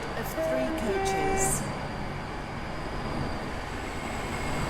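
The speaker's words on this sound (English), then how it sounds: "The train now approaching Platform 3 terminates here." A train pulls into a platform at a busy station in a video game, with a steady rolling rumble, a few tonal squeal or chime notes early on and a faint hiss on top, running continuously at moderate volume.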